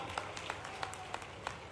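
A crowd at a political rally in India claps faintly and scattered, with a handful of distinct claps standing out over low background murmur.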